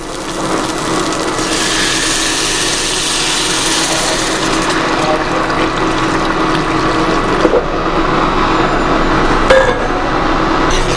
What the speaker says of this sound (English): we are adding hot water